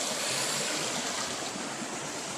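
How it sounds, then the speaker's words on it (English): Close, steady rushing of a creek, a dense broadband wash of flowing water with no voices. "So I'm right by this creek."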